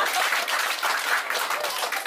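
Steady audience applause at a stand-up comedy show, dense continuous clapping from a crowd filling the whole stretch at even loudness.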